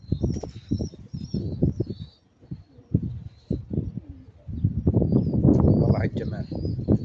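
Pigeons bought from a market flap their wings in bursts while someone talks in Arabic over them, with some cooing and soft bird calls in the background.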